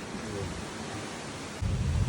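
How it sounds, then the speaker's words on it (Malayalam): A low, rumbling roll of thunder during a rainstorm with wind, with broad noisy texture that swells louder near the end. "ഇടിവെട്ടും കാര്യങ്ങളൊക്കെ ഉണ്ട്"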